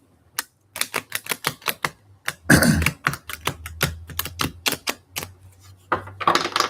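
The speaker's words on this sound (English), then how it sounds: "The cards need a lot of shuffling today." Tarot cards being shuffled, a fast run of crisp, distinct riffling clicks and snaps close up, with a brief denser flurry partway through and a hissy burst of shuffling at the end, no voice.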